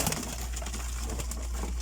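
Breeding and flying pigeons kept by a hobbyist in Saudi Arabia coo softly and close by over a low steady hum, with a few faint bird calls scattered through the short stretch.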